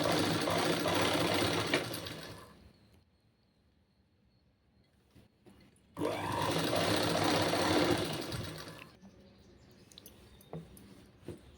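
A sewing machine stitches a boat neck blouse in two loud, steady bursts of about two to three seconds each, with a quiet pause between them and soft handling noises afterward.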